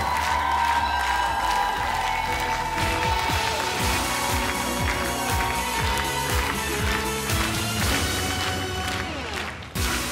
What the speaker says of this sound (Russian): И мы провожаем тебя аплодисментами.